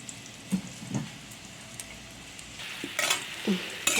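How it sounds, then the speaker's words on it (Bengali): Soft frying sizzle as potato and papaya cook in a pan, interrupted by occasional scrapes and stirring knocks, with louder bursts of crackling toward the end. "আমার আলুর পেঁপেটা ভাজা ভাজা হয়ে গেছে"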